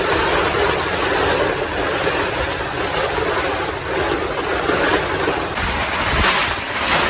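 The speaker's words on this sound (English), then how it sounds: "It's really raining out there" Heavy rain pours down outdoors under sunshine, a dense, steady roar of falling water with a constant hiss and low rumble that barely varies throughout.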